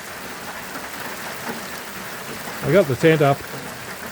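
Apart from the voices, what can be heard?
heavy rain at a tent camp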